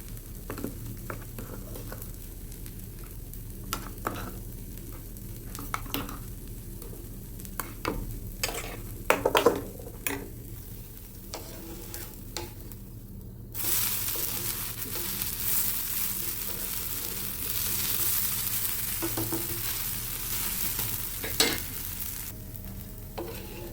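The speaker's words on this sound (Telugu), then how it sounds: "ఇక నేను చట్నీలో పోపు పెట్టేస్తున్నాను" Tempering is added to a chutney being made for dosa in a home kitchen: soft stirring and scraping at first, then a sudden loud, hissing sizzle that keeps crackling steadily to the end.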